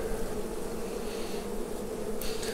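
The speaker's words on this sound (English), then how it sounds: "the bees are queuing up behind her trying to get in" Honey bees swarm around an open hive during a full summer inspection, a dense continuous buzzing hum close by and steady throughout, without speech.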